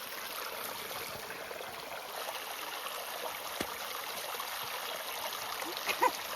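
Steady rushing and trickling of a flowing stream on a hiking trail in Hocking County, Ohio, a constant close wash of water noise with an occasional small splash.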